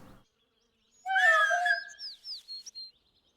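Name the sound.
cat meowing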